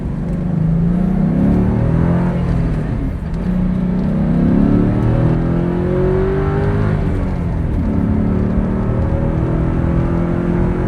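A 2003 Ford Mustang Mach 1 with a 4.6 V8 and five-speed accelerating under throttle from inside the car: loud, rising engine pulls with gear-change dips between them, close and continuous with no talk.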